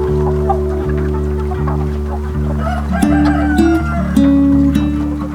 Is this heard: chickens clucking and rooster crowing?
yes